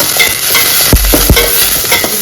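Food fries hard in a smoking-hot pan, giving a loud, steady sizzle broken by a few sharp scrapes and clanks of stirring.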